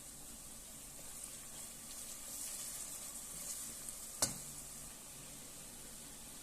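Spice masala of cumin, turmeric and chili powder sizzles steadily in a pan, a soft continuous frying hiss with light stirring and one sharp clink of a utensil against the pan.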